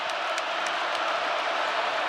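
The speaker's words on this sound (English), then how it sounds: "And the crowd will roar." Dense, sustained roar of a basketball arena crowd during a college game with Purdue, loud and steady throughout, with faint cheers and claps poking through the wash of noise and no clear speech.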